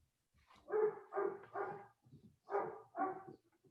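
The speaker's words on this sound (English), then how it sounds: "Lucy, one of your dogs wants to weigh in on why it's important" A dog barks five times indoors, in two quick groups of three and two, fairly close and clear, with no one talking over it.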